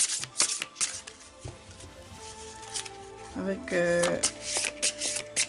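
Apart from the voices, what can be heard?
shuffling and drawing Osho tarot cards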